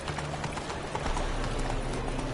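A horse's hooves clop in a quick galloping rhythm in The Witcher 3. The hoofbeats are dense and steady, close and moderately loud over low game ambience, with no talking.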